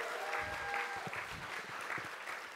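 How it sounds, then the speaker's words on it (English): An audience at a conference claps briefly and steadily. The applause is even and moderately distant, with a faint tonal hum beneath it and light thumps scattered through. "Clap it up for them."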